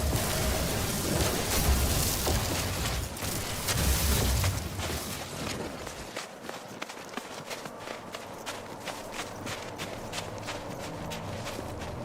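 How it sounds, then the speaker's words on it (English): Heavy rain pours steadily during a storm on an alien planet in No Man's Sky, a dense roaring wash that thins after a few seconds into a patter of sharp drops and rumbling gusts, with no voices. "Weather warning. Incoming storm."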